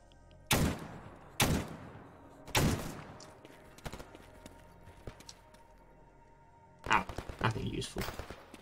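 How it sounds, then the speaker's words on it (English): Gunfire in S.T.A.L.K.E.R. Gamma: a few sharp, loud shots spaced roughly a second apart, then a denser burst of rapid fire near the end, with quieter game ambience between. "You're shooting at me."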